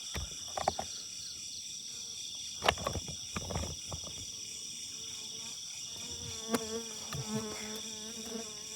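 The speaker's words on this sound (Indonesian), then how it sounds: "Lebah atau apa gitu." A bee or similar insect buzzes steadily and close for the whole stretch, a constant high drone, while occasional footsteps and handling thumps sound beneath it.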